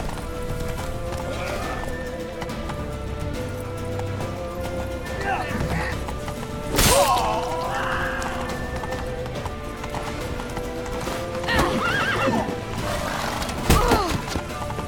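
Horse hooves clip-clop at a gallop in The Witcher 3 video game, with several sharp neighs and whinnies breaking out over steady hoofbeats while voices shout through the action.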